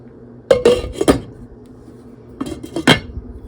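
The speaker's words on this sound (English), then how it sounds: "But for now, I'm going to put the lid back on." A metal lid clanks down onto a pot of potato soup: a cluster of sharp clinks and rattles near the start, then a second set of clanks as it settles. Close and moderately loud, with no talking.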